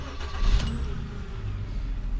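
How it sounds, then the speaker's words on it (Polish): Mercedes S350 engine starting: a brief crank and catch, then a steady low idle rumble up close, with a faint metallic jingle near the start. "jak uruchomię silnik"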